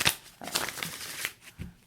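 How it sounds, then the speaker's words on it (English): Tarot cards are shuffled by hand in a few quick, crisp riffling bursts, close and fairly loud, separated by short pauses. "I'm going to shuffle on camera for you guys."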